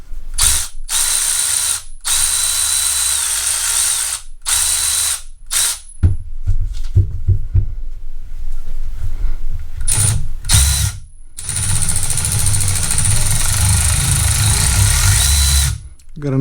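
A Milwaukee M12 Fuel 3/8-inch cordless ratchet runs in loud close bursts, a high motor whine with ratcheting chatter, stopping and starting repeatedly through a variable-speed trigger, with someone talking between runs.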